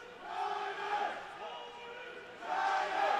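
A crowd at an ice hockey game in the Extreme Ice Center cheers in swelling waves, moderately loud and fairly distant, rising again toward the end.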